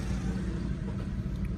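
Suzuki Cultus or WagonR engine idling steadily after a throttle body calibration, a continuous low rumble that holds even and fairly loud with no talk over it.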